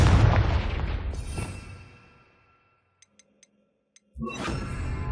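A Confringo fire spell blasts off in Hogwarts Legacy with a loud, roaring burst that rumbles and fades over about two seconds, then a few faint ticks and a second strong whooshing blast rising near the end.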